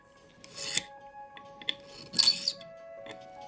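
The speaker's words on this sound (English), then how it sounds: "using the pivot file, slowly turning the pin vise, we'll square off the end of the tapered pin." A pivot file rasps across the squared end of a tapered pin turning in a pin vise during a clock restoration, two clear strokes with quieter scraping between, close and alone.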